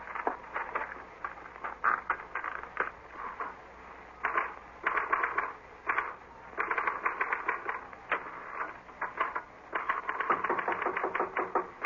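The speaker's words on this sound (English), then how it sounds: "This is a note I want you to copy onto your typewriter." A typewriter clatters in a radio drama, rapid bursts of key strikes coming in uneven runs with short pauses between them, heard fairly close on a thin, band-limited recording.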